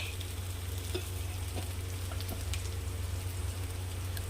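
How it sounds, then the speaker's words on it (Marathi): Cumin seeds sautéing in hot oil, giving a continuous soft sizzle and crackle with occasional small pops, under a low steady hum. "जिऱ्याला छान असं परतून घ्यायचं आहे"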